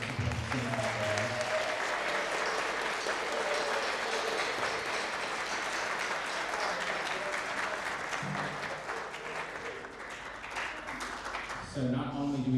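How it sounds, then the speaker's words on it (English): Sustained audience applause for teachers at a school world percussion spring concert, a dense, steady wash of many hands clapping throughout, with voices and crowd noise mixed in and a brief lull near the end. "Give these teachers a round of applause for sitting out there."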